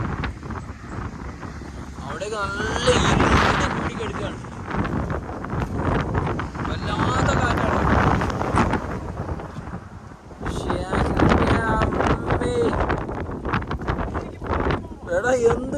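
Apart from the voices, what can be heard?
strong wind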